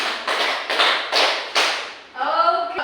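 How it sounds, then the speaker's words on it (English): A class of students gives five rhythmic claps in a row, loud and close, evenly spaced, followed by a brief burst of voices at the end. "let's give them a 5 claps"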